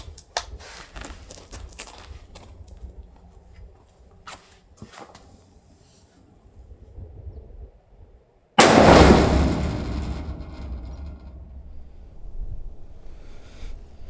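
A single loud rifle shot fired at a paper target outdoors, a sharp sudden blast that rolls into a long fading echo, preceded by quiet handling clicks and faint movement.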